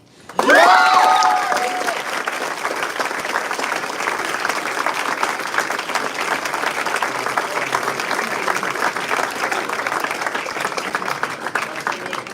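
Audience applause at a Willem C. Vis moot court announcement naming the advancing team: sustained clapping from a room of people, starting abruptly with a brief voice at the start and then holding as a dense, even patter to the end.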